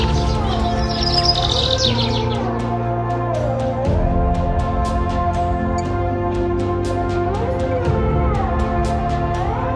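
Birds call and chirp around the car park of a seabird cliff reserve, with tree sparrows flitting nearby; bright, repeated tweets ring out close and clear over a steady background hum, with no talking.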